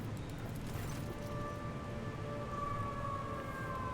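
Air raid sirens wail steadily in the Rogue Trader video game, loud and sustained with drawn-out rising tones over a dense rumbling backdrop.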